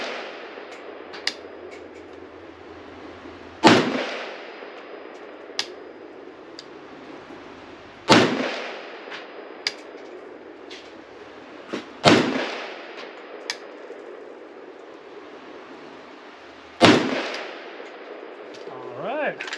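An AK-pattern Palmetto GF5 rifle firing Barnaul ammunition, four single loud shots spaced several seconds apart at the range, with faint clicks and handling noises between them.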